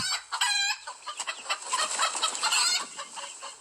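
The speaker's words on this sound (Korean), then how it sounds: "수탉은 목청껏 고래고래 소리를 질렀어요." A rooster crows loudly and close by, a long strained call followed by clucking and squawking from fowl.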